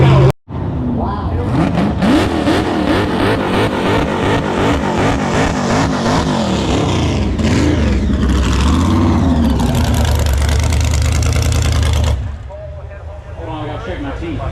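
A car launches and accelerates hard down a drag track at Holley LS Fest East 2023, its engine snarling through rising, wavering revs that stay loud and close for about twelve seconds before dropping to a fainter rumble.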